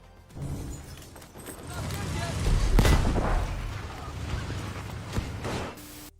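Rockets fired by electrical ignition in Battlefield 5 launch with a heavy whooshing roar and booming blasts that build and fade over several seconds, with someone talking over them.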